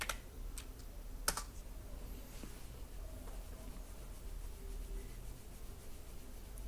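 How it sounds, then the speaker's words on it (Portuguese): Keys clatter on a computer keyboard as a short command is typed, giving quiet scattered clicks with one sharper tap near the start over a low steady hum. "Então vamos digitar aí npm run dev."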